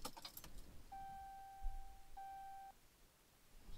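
Keys jangle briefly as an ignition key is turned on in a Dodge truck, followed by a clear tone that holds for over a second, a tiny gap, then sounds again before cutting off, heard close up.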